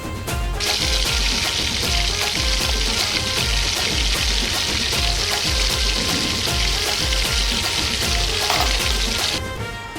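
Tomato added to fried onions in a pan sets off a loud, continuous sizzle that starts abruptly and cuts off near the end, with a regular ticking pulse running underneath.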